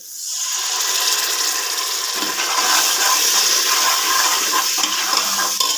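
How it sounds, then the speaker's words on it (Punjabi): Water streams steadily into a pan with a continuous rushing, splashing sound, starting quickly and holding at an even level. "ਤੇ 2 ਕੁ ਚਮਚ ਆਪਾਂ ਪਾਣੀ ਪਾਵਾਂਗੇ"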